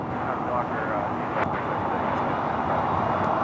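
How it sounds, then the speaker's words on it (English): An airliner taking off from runway 25 right at Los Angeles International Airport, a steady broad engine roar heard from a distance, constant throughout with no breaks. "RNAV Docker, runway 25 right, cleared for takeoff."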